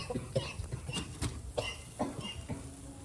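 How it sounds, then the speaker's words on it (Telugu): Two people coughing at a chicken kebab cookout at night, several short dry coughs in irregular succession with soft background noise. "దగ్గు వస్తుంది ఇద్దరికి."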